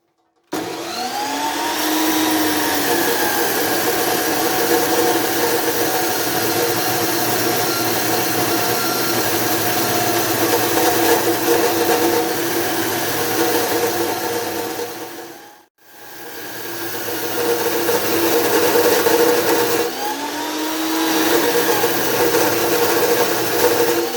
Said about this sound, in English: With my little hobby lathe, it's going to take me the better part of an afternoon to cut that thing.